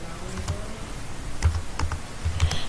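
Keys are tapped on a computer keyboard, giving close, crisp clicks in an irregular typing rhythm over a few seconds, with no talking.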